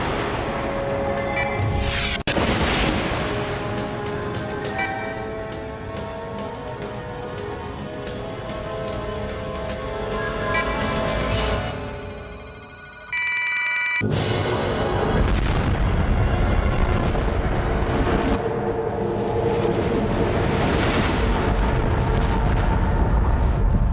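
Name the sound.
explosion in a science fiction film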